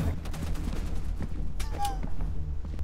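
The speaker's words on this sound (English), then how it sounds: "Bad news, they're being shot to death. I could hear bullet sounds." Scattered gunfire in the horror video game Content Warning, several sharp shots spread among game noise and speech, fairly loud and close.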